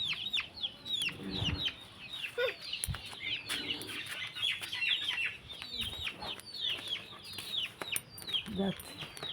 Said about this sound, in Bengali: এই দেখো মুরগি,